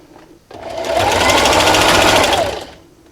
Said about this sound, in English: Alright guys, so I'm over here at the sewing machine.